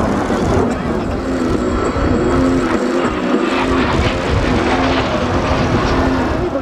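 Blue Impulse jet aircraft of the Japan Air Self-Defense Force roar past at the Shizuhama Air Base air show, a loud, sustained engine rush that fills the scene while an announcer talks over it.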